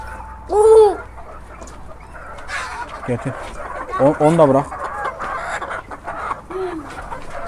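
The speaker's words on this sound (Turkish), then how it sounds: "Oğlum bu horoz ötüyor." A rooster among breeding birds being fitted with leg bands gives a short crow and several clucking calls, close by, mixed with other poultry sounds as people talk over and between them.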